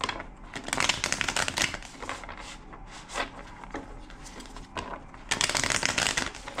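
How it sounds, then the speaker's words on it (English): Tarot cards are shuffled repeatedly in quick riffling bursts, rasping and fluttering up close, with brief pauses between shuffles. "2 more shuffles."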